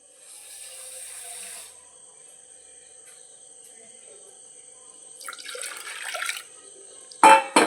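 Water splashes briefly into a cooking pot with little millet rice for about a second, followed by a couple of sharp clanks against metal, with a faint steady hum and chirping behind.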